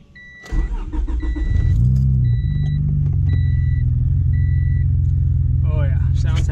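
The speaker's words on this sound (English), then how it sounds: "fire it up, see how she does. All right guys, here we go, first startup." A Honda Accord J30 V6 fitted with a J35 intake manifold and spacer cranks and fires up for the first time, settling into a steady, loud, close idle rumble with faint high whine tones throughout.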